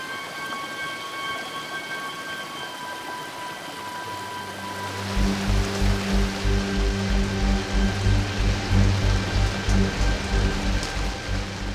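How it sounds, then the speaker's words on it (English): Heavy rain pours onto a temperate forest while swollen streams rush toward flash flooding, a steady hiss that swells into a loud, dense downpour partway through with a rumbling low roar. "As the season's first rains pour down upon the temperate forest, small streams rapidly swell into aggressive flash floods."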